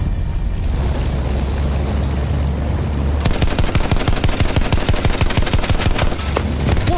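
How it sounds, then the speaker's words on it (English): A Battlefield 1 machine gun fires a long rapid rhythmic burst of loud, close shots over a low rumbling battlefield background, stopping briefly near the end before a few more shots. "Machine gun over there."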